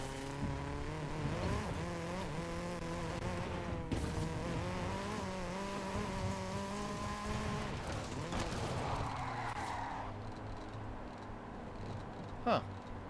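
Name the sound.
car engine running in a video game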